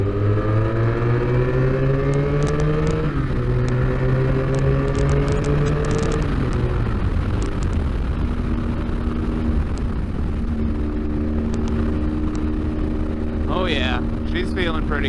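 A 40-year-old motorcycle engine runs close by, its steady harmonic drone climbing and dropping in pitch as it revs and then settles toward idle.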